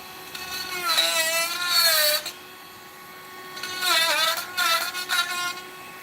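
A saw cutting all the way through a piece of wood, its motor whining in two loud bursts with the pitch sagging and rising as the blade bites, separated by a quieter pause.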